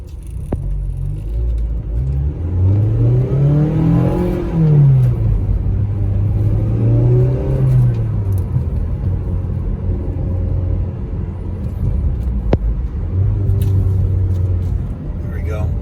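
A 2006 Mazda Miata LE accelerates onto a freeway, the engine note climbing through gears in rising sweeps with shifts between, loud and close with road rumble underneath, brief speech over it.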